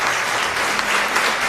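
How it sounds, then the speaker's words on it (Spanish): A strong round of applause from the congregation at a Catholic Mass in a parish church, dense continuous clapping filling a brief stretch at full volume. "un fuerte aplauso"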